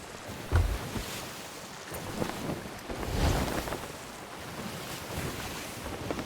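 Wind in the Sea of Thieves video game sweeps steadily over a sailing ship at sea, a constant broadband rush with gentle swells and a couple of soft low thumps, no voices.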